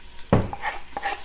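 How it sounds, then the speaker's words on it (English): A spoon stirs garlic into onions sautéing in an Instant Pot for pasta e fagioli, giving one firm scrape near the start, then softer clinks and a low sizzle. "The onions are just about done, so I'm going to add my garlic"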